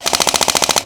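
An airsoft gun fitted with a BRSS recoil system fires a quick full-auto burst of about a dozen sharp, evenly spaced shots, loud and close, in under a second.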